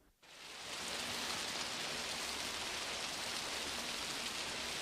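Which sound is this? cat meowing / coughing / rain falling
rain falling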